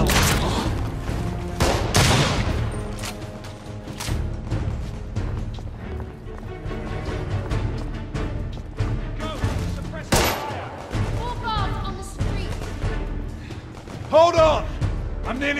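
Gunfire in The Order: 1886, repeated booming shots and bursts scattered across a chaotic firefight, loud and close, with someone talking over much of it.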